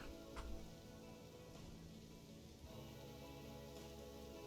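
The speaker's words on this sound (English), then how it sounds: "Quite the downpour we got here." Rain downpour in the zoo-building game Planet Zoo, a faint, steady hiss of rainfall with low rumbling under it and a few brief ticking accents, no voices.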